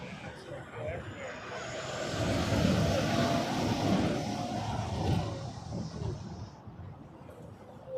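Jet airliner rolling for takeoff on runway 05 at Toronto Pearson, a broad rumbling engine roar that swells to a peak midway and then eases off as the aircraft moves away.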